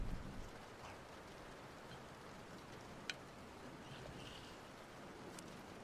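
Soft, steady rain patters without a break, a faint, even wash of drops with a few light ticks and taps above it and no voices.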